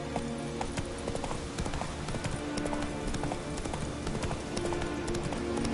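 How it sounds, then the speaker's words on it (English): A horse galloping in The Witcher video game, with a steady, rapid clip-clop of hooves over constant loud ambient noise that runs throughout. "Run, Roach."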